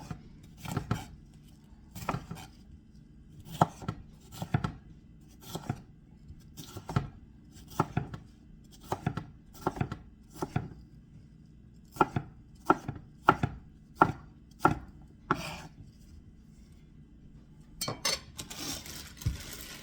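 A knife chops vegetables on a cutting board for shrimp in tomato sauce, sharp, evenly spaced single strikes about a second apart, close and clear, ending in a quicker burst of cuts.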